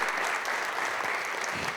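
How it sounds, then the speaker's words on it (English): An audience at a community library event claps together in a steady burst of applause lasting the whole stretch, fairly distant and even in level. "this is applauding for your town."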